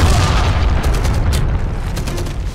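In the video game Enemy Front, a grenade blast produces a loud, close, low rumbling boom that rolls on and slowly fades over a couple of seconds.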